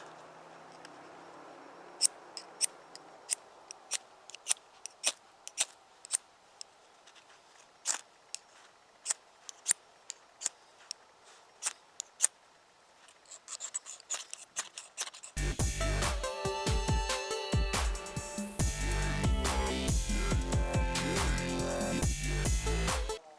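A Holtzman Gorilla survival card striker scraping a ferro rod, heard as a run of sharp, separate scratches spaced through the first half. It then gives way to a loud, dense, continuous rasping scrape.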